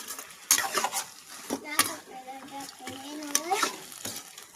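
Chicken fry being stirred in a pan, with scraping clinks of a utensil against metal and a soft sizzle underneath, in uneven strokes close by; a voice speaks over part of it.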